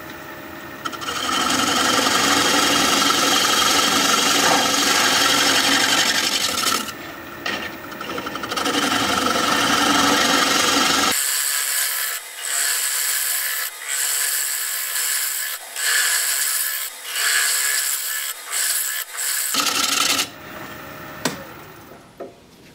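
A chisel cutting driftwood on a wood lathe, a loud steady hiss and rasp of the spinning wood, then a stretch of intermittent scraping bursts as the tool is pressed on and off, close-up with no talk.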